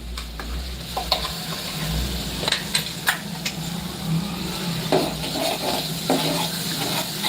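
Ground masala is stirred into a village-style mackerel curry in a pan, the spoon scraping and clinking against the metal in irregular strokes over a soft, steady sizzle, close by and with no talking.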